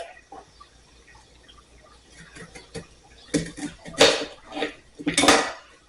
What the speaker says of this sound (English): Then what you're going to do is you're just going to cut it in half.